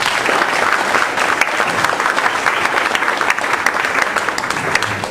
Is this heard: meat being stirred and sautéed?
no